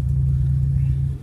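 A Nissan X-Trail engine, just repaired after a loss of power and acceleration, hums with a steady low rumble, held near and loud, and fades off at the very end.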